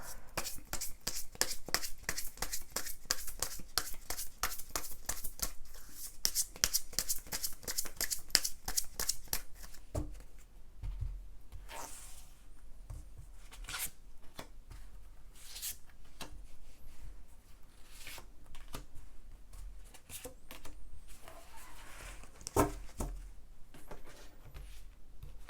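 A deck of tarot cards is shuffled at length, first in a rapid, regular stream of crisp riffles for about ten seconds, then in looser, scattered flicks and taps, all quiet and close.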